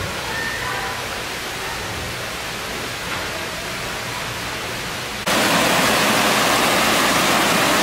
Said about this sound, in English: I guess I just love ending these things with a waterfall